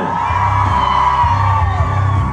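A rally crowd from San Carlos City, Pangasinan, at a national peace rally, whooping, yelling and cheering together in a loud, continuous roar with rhythmic chant-like pulses underneath.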